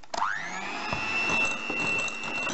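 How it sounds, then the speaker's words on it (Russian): Egg yolks being beaten with sugar into a pale foam by an electric mixer: a steady, close, whirring motor drone that holds an even pitch throughout, with no talking. "В желтки высыпаем сахар и взбиваем до белой пены."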